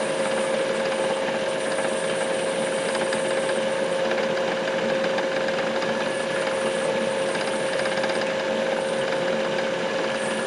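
A small 1.5 millimetre bit drills a hole into a rock, giving a steady, continuous high whine with a grinding, ratchety texture that holds at an even level throughout, with no voices.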